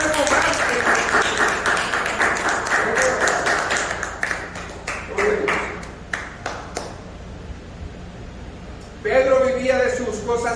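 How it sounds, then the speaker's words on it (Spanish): A church congregation breaks into applause during a Spanish-language sermon: dense clapping for several seconds that thins into scattered claps and fades, before the preacher's voice returns near the end. "Denle un aplauso al Señor."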